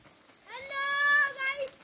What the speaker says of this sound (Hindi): गोलू की बकरी आ गई है